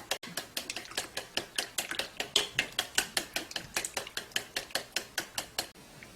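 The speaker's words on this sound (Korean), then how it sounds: "계란은 4개 정도 깼어요. 거기에 소금 약간만 넣어주세요. 그래서 이렇게 풀어주시면 됩니다." Four eggs with a little salt beaten in a bowl for gimbap, heard as a steady, fast run of close, crisp tapping strokes at about four per second, with no talking.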